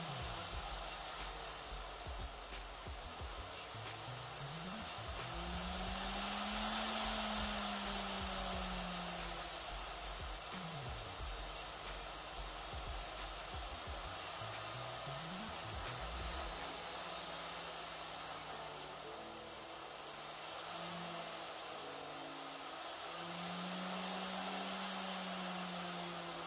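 A homemade brushless DC motor with a non-ferromagnetic plastic build runs continuously, giving off a steady, airy whirring hum with small shifts in pitch for the whole stretch and no voices.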